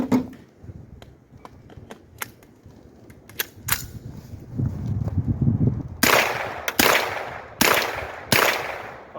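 A rifle in .22 LR or .223 fitted with a Blast Forward muzzle brake fires a spaced series of four loud, sharp shots near the end, after lighter clicks and quieter handling noises outdoors.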